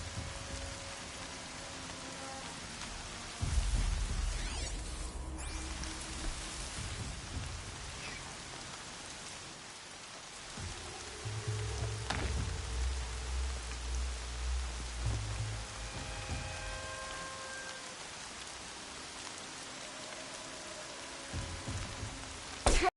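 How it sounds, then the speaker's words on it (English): Steady rain pours in the video game Horizon Zero Dawn, a dense hiss that runs the whole time with occasional low rumbling swells beneath it. "More rain."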